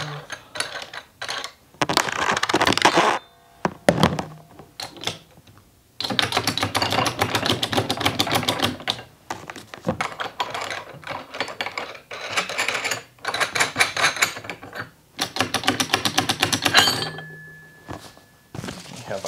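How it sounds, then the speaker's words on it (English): A hydraulic ram on a dry ice maker is pumped by hand, producing bursts of rapid mechanical clicking and clacking in repeated strokes separated by short pauses, close and fairly loud. "Now we just go ahead and pump up the ram, making that block super dense."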